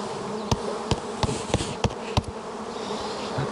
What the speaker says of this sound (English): Oh, you're going to scoop the bees up?